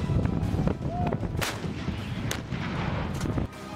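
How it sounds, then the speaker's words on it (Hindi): A 155 mm howitzer artillery gun fires with heavy booming blasts, a few sharp detonations over a dense, rumbling low roar that carries through the whole stretch. "और इसमें सबसे अहम है ये 155 mm हावित्जर आर्टिलरी गन।"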